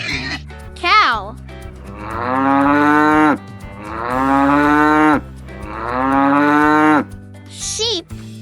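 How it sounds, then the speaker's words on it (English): A cow moos three times in long, drawn-out calls, loud and close, with a brief child-like voice heard near the start and the end. "cow"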